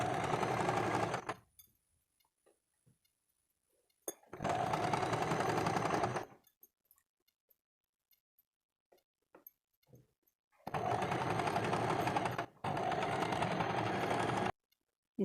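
A sewing machine stitching a kurti runs in three separate steady bursts with quiet gaps between them, close and alone with no talking.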